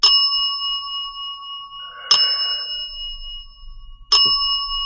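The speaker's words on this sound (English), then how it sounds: "this bell goes more often, and if I stop talking, the bell kind of goes quiet." A bell dings three times at night, each strike spaced about two seconds apart. Every ding is clear and ringing and decays slowly in an otherwise quiet room.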